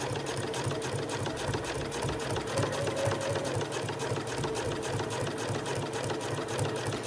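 A sewing machine stitching a zip onto a backpack pocket runs steadily and closely, its rapid even needle rhythm continuing without pause throughout.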